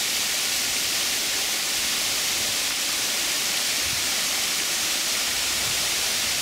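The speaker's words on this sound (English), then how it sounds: "This is a waterfall in Cove Springs" A waterfall in Cove Spring Park, Frankfort, Kentucky roars steadily, a dense, unbroken wash of rushing water that stays constant throughout, close and loud.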